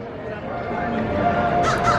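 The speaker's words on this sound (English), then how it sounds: "The crows are out in the morning too." Crows cawing in the early morning at a theme park, a couple of harsh calls near the end over a background of crowd murmur and a faint voice.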